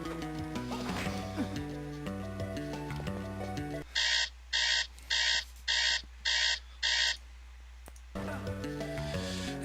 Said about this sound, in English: And that was my alarm just scaring the crap out of me.